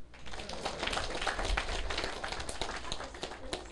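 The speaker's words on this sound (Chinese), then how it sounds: "你们拍手呀！" An audience claps hands at a political lecture, a soft, steady patter of applause heard from some distance and holding evenly for several seconds.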